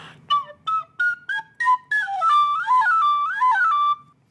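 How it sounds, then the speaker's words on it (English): A small silver flute plays a run of short separate notes followed by a longer wavering phrase, clear and close with no talking. "Another little silver flute."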